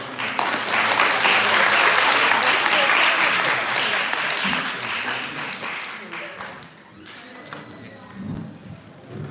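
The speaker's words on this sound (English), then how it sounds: "So please give me round of applause." Audience applause at a Rathayatra ceremony in a temple hall: a loud burst of many hands clapping that swells, holds for several seconds, then thins out and fades, with scattered voices near the end.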